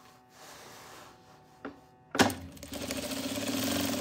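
A sewing machine starts up after a couple of soft clicks and runs in a steady whirring stitch along the edge of fabric, close and alone.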